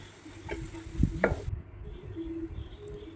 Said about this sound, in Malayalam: വേവിച്ച് വെച്ചിരിക്കുന്ന കക്ക അതിലേക്ക് ഇട്ട് കൊടുക്കാം എന്നിട്ട് നന്നായിട്ടൊന്ന് ഇളക്കി യോജിപ്പിക്കണം